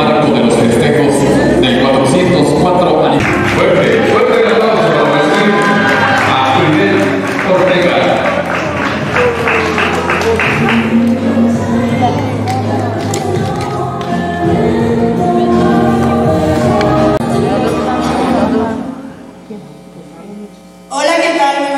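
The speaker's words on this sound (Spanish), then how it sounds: "Fuerte, fuerte el aplauso para recibir a" Loud, sustained audience applause and crowd noise at a beauty pageant, La Flor Más Bella de Ciudad del Maíz 2021, with music underneath and voices over it, fading out near the end.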